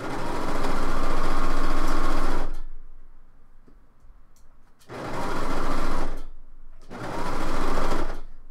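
Home sewing machine stitching a shoulder seam on a top, running in three loud steady bursts of about two seconds each, separated by quiet pauses.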